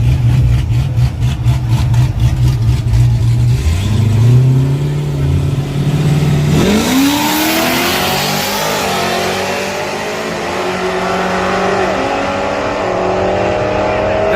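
Street drag race cars, including a Camaro, rev loudly nearby, then launch with a rising engine roar as they accelerate away down the street and the sound fades into a sustained engine drone.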